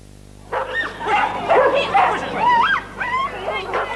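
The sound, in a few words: dogs barking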